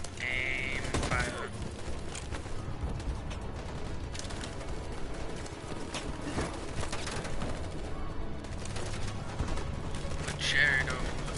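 A loud, sustained volley of gunfire bursts from a group of troops in the video game Detroit, rattling on for several seconds amid voices and background score.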